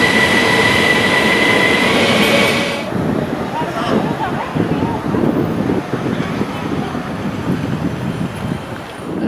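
An overnight train rumbles steadily along the tracks on a rough ride, with rhythmic rattling and clatter, loud and close, with a brighter hiss over the first few seconds.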